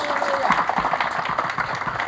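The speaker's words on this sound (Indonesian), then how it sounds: "Beri tepuk tangan terbaik buat Tuhan Yesus" Church congregation applauding during an Indonesian sermon, a continuous wash of clapping and crowd noise at moderate level, fairly even throughout the short span.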